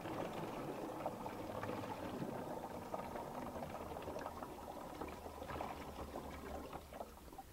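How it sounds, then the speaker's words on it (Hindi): Water being poured into a 16-litre knapsack sprayer pump tank, a steady splashing, gurgling fill running continuously at close range with no talk. "पहले तो ये पंप में अपने पानी डाल लूँ"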